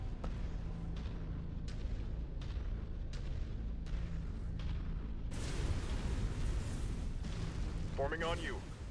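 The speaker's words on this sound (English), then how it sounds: "I'm hearing the explosions." Repeated deep booms and rumbling blasts from a MechWarrior 5: Mercenaries battlefield, a steady stream of explosions with a chirpy electronic tone near the end.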